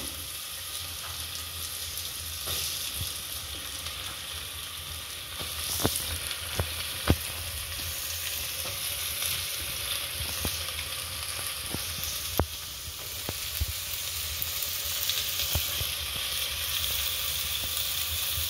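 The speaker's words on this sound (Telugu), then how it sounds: "ఇప్పుడు దీంట్లోకి మనం బీరకాయ వేసేసుకుందాం. చూడండి, బీరకాయ వేసేస్తున్నాను." Chopped ridge gourd sizzles in a pan with frying moong dal for masala birakaya pappu, an even, continuous hiss with a few sharp spatula clicks and scrapes scattered through, no speech.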